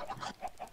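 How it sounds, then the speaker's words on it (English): Chickens in the Minecraft video game cluck in a quick run of short, bright calls, rapid and fairly loud with no talking. "Oh my god, it's like a zombie horde of chickens."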